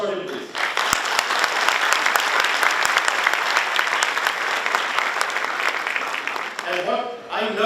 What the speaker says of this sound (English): A huge applause for him, please.